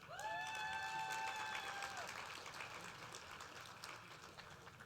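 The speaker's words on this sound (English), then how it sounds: "Let's give all of our finalists a big round of applause." Audience applause for award finalists at a Teacher of the Year and Educational Support Personnel of the Year event: steady, dense clapping from a large crowd filling the room, with a few sustained tones ringing over it at first, then fading slightly.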